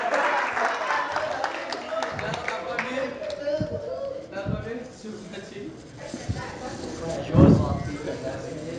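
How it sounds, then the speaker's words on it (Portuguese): An audience at a Portuguese-language talk on courage gives a round of hand clapping that is moderately loud and sustained, then fades as a presenter keeps speaking over it. "Salva de palmas pro Iago."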